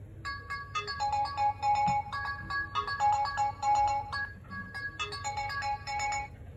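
A kxd classic A09 phone plays a bright, melodic ringtone through its speaker, repeating short chiming phrases in bursts, loud and close with no talking over it.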